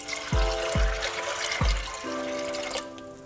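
Water pours into a pressure cooker of overnight-soaked chana dal with turmeric and oil, a steady splashing wash with a few low gulping thumps, close and fairly loud, with no talk.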